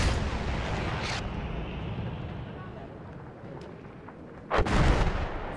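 Two loud cannon blasts in Battlefield 1, on a snowy map, one early and a bigger one near the end, over a steady rumbling background.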